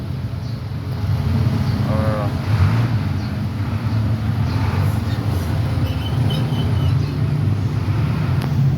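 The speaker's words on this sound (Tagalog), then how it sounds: "First day of school ngayon, sobrang traffic na." Heavy road traffic on the first day of school near a market: a steady, loud engine and road rumble with wind buffeting the microphone, carrying on without a break.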